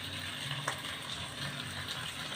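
Green onion going into hot oil in a pan gives a steady, close frying sizzle with a brief crackle burst, and no one speaks.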